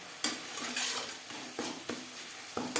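A spoon scrapes and stirs spice paste in a pan for a silver carp and pea fish curry, with irregular clinks against the metal over a soft sizzle of frying.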